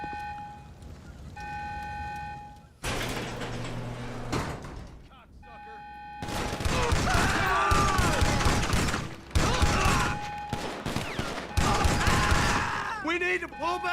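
Shotgun fire in GTA 5 Online comes as several loud, broad blasts in separate bursts, mixed with in-game vehicle and mechanical sounds and tones.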